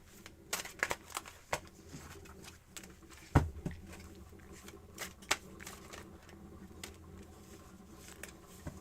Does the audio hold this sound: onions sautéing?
no